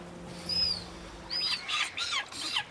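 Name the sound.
silver gull calling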